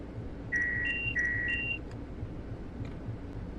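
Train cab alerter alarm sounding in Train Sim World 4 on a Long Island Rail Road train, a two-tone electronic beeping repeated twice in quick succession over a low cab rumble, then a few faint clicks.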